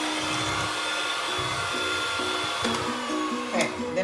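A stand mixer whips egg whites and sugar for buttercream, a steady loud motor whir with a rising-and-falling whine and a few clanks, running throughout.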